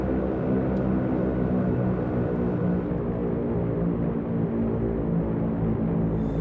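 Twin engines of a Handley-Page Hampden bomber in a flight simulator drone loudly and steadily through a takeoff climb, a dense constant propeller roar with no voices.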